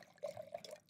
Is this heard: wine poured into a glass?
yes